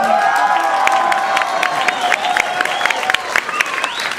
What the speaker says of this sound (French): Je vous prie de bien vouloir applaudir notre première candidate.